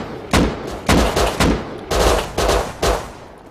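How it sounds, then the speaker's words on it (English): Six loud, close gunshots from the video game Rust ring out in an irregular rhythm, each a sharp crack followed by a brief ringing tail, with no talking over them. "I headshot him. Shot the guy."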